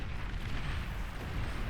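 A nuke detonates in the real-time strategy game Beyond All Reason, a loud, sustained rumbling blast that holds steady throughout.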